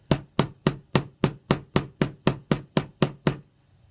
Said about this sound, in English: So you just want to lightly hammer